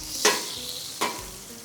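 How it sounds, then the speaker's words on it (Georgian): Onion frying in oil as it caramelizes, a soft steady sizzle with two brief scraping stirs of the pan, close and fairly quiet, no voices. "ხახვი კარგად მოუბრაწოთ ზეთში და მიცეს თავისი არომატები"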